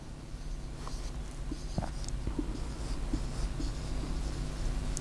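Chalk or marker scratching on a board during a math lecture on differentials, a steady run of faint scraping strokes beneath a constant low room hum, with no voices.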